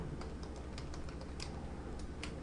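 Quick, uneven keystrokes on a computer keyboard tap out a name, close and fairly faint, with a soft steady hum underneath.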